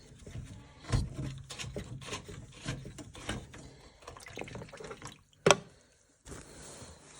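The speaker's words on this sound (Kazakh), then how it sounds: "Су шығып жатыр ішіне." Water drips and trickles irregularly from a washing machine filter into a container, with splashy pattering bursts and a sharp clatter near the end, fairly quiet and close.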